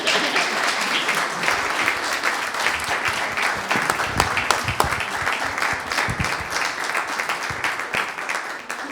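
A church congregation breaks into sustained, dense applause after a missions testimony, a loud continuous wash of many hands clapping at once for several seconds, with no voices standing out.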